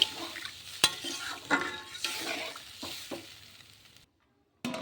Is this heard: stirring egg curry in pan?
yes